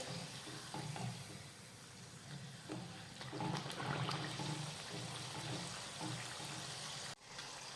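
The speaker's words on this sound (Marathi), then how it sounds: "आणि पुरीवर झाऱ्याने असं तेल सोडत राहायचं म्हणजे मग पुरीला दोन्ही साईडनी व्यवस्थित हीट मिळते" Spicy puris deep-frying in hot oil give a quiet, continuous bubbling sizzle while oil is ladled over them with a slotted spoon, with soft splashes and scrapes and one brief drop near the end, and no talk.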